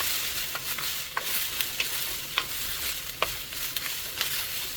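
Vegetables sautéing in oil in a pan, a steady sizzle under regular sharp clicks of a spoon stirring and scraping, close and alone without talk.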